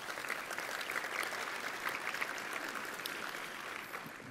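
Applause from an audience thanking event organizers, a soft, even patter of many hands clapping at a distance that continues steadily without voices.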